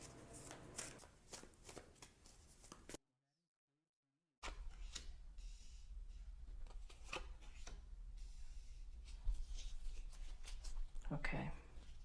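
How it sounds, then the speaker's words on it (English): Tarot cards are shuffled by hand close up in repeated riffling bursts, broken by a brief silent gap before the shuffling resumes, with a voice speaking over parts of it. "Give them a few more shuffles."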